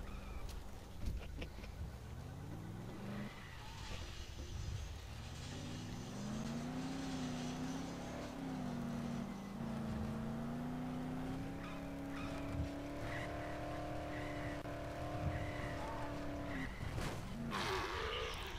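A car driving in the video game Dead Island, a faint steady engine drone rising in pitch as it accelerates and holds speed, with a few knocks and bumps along the way.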